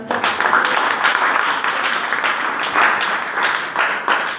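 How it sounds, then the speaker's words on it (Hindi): An audience at a talk on alcohol prohibition in Bihar applauds loudly, a thick continuous wash of clapping with sharp individual claps standing out, close and steady. "इसकी इस पहल पर जो है वो हम लोग जोरदार तालियों के साथ"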